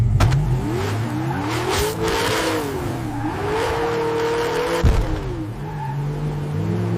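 A Ford Mustang GT engine revs loud and close in repeated rising and falling pulls, with a brief sharp burst near the end.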